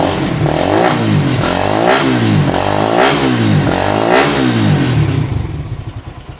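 A motorcycle with an aftermarket pipe cold starts and idles loud, its exhaust thumping in rough, rhythmic pulses with repeated revs before the engine cuts and fades at the end.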